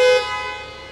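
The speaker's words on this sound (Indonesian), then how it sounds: "Satu klakson yang normal," An Ineos Grenadier's normal car horn gives one short, loud, bright honk up close, then rings away into a fading tail.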